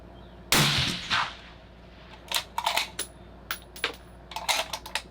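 A single loud, close gunshot from a Sig Cross rifle during a barrel test, followed by a quick series of light metallic clicks and clatters.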